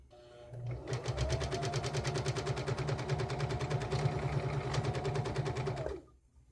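A sewing machine stitches a seam on a fabric grocery bag holder in a fast, even run of needle strokes lasting about five seconds, close and clear, then stops.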